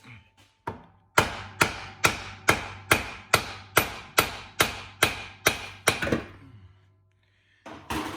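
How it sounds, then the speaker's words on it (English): A series of about a dozen sharp metallic hammer strikes on the drive shaft of a 2006 Ford Mustang, steady rhythm, close and loud, with ringing decay, then a pause and one more blow. "you have to hit them with a hammer to get them loose"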